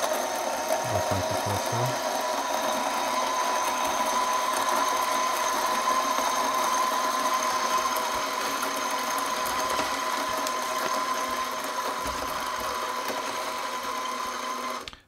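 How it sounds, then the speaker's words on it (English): A high-end coffee grinder grinds beans with a loud, steady mechanical whir that runs unbroken for about fifteen seconds and cuts off at the end. "when we pour coffee beans and we turn the grinder on"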